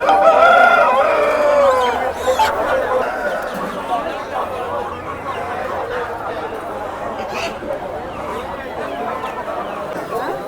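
Native chickens and roosters at a weekly poultry market, with a loud rooster crow at the start, then clucking and crowd chatter as people talk nearby.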